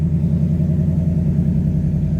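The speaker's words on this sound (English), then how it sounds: "we can open up the exhaust notes" A 2024 Ford Mustang GT V8 runs with its exhaust valves opened, giving a steady, deep, close idling rumble with no talk.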